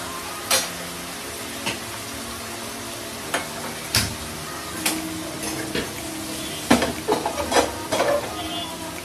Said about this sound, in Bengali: এবার ভালো করে এই মশলাটাকে কষাবো